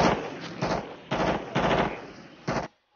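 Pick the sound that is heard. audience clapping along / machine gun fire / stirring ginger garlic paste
machine gun fire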